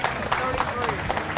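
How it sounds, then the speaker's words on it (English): Audience applause at the Holley LS Fest engine swap challenge, steady clapping beneath a loud announcer's voice throughout. "let's get a big round of applause for the School of Automotive Machinists"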